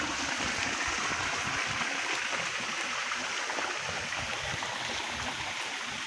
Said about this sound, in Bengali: পানি পড়ছে।